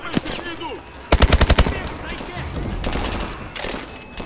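Call of Duty: Advanced Warfare gunfire comes as a tight, loud burst of about six rapid shots, followed by rumbling battle noise and scattered sounds, with someone talking over parts of it.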